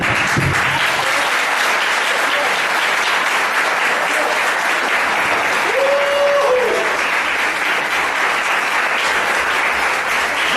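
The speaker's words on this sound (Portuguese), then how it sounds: "Eu quero, em nome de Jesus, aplaudir você." A church congregation applauds during a sermon, a broad sustained wash of many hands clapping that stays loud and even throughout, with a brief tonal sound from the room rising faintly in the middle.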